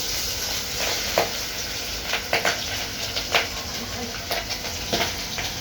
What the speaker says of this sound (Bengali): এই দেখো কেমন তেল ছিটকাচ্ছে, সাবধানে মাছ ভাজবে কিন্তু